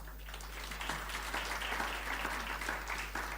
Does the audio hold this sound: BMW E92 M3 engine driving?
no